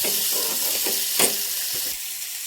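Kolim shrimp frying with homemade spice masala in a pan, a dense close hiss of sizzling oil with a few soft stirring scrapes over a brief stretch.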